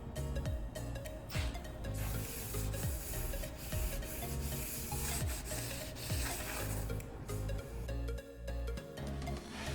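A cloth wipes a wrecked Toyota Tacoma TRD truck body panel with brake cleaner, giving steady close rubbing and scrubbing strokes in a repeated rhythm.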